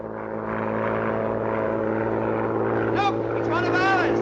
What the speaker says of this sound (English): Sounds like an aeroplane.